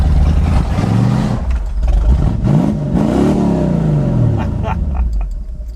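A Continental barn-find car, off the road for 35 years and with worn brakes, cruises along, its engine revving and easing off in loud rising and falling sweeps with some clatter, near and continuous.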